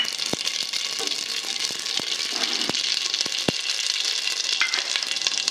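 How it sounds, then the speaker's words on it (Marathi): Whole spices, cloves, peppercorns, cinnamon, cardamom, cumin and mustard seeds, sizzle and crackle in hot oil for spiced masale bhat, a steady close frying hiss dotted with sharp pops of bursting seeds. "तेल तापलेलं आहे। लवंग आणि मिरे टाकलेले आहेत, दालचिनी, वेलदोडे,"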